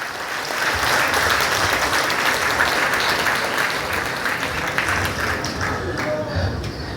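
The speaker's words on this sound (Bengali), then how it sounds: "এটা জোরদার করতালি হবে স্যারের জন্য।" An audience at a company celebration event gives sustained applause, a dense wash of clapping from many hands that carries on steadily for several seconds, with voices mixed in.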